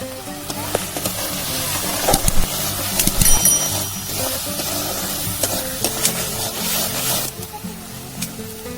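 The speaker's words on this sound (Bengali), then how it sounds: "মশলাটা কষানো হয়ে গেছে বন্ধুরা।" Spices fry with turmeric and salt for an egg curry cooked outdoors in a field among trees, giving a steady sizzle with repeated stirring scrapes and occasional clattering knocks.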